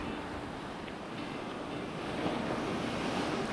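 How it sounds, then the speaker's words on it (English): Wind rushes across a beach while fishing for mulloway, a broad steady roar of gusts and surf noise buffeting close to the microphone, with no talking. "Whoa, a little bit windy. The wind in the slack."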